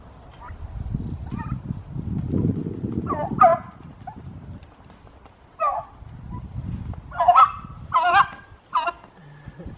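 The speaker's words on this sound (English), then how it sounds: "He's trying to gobble. It's not working." A turkey attempts to gobble, producing several short raspy bursts that grow fuller and closer together toward the end, over a low background rumble.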